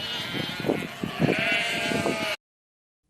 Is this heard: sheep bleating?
yes